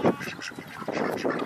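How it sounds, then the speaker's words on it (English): Guinea geese honk on a farm near the duck area and chicken coop, a short burst of loud, close, rapid harsh calls with several overlapping voices. "in the background you can hear our guinea geese"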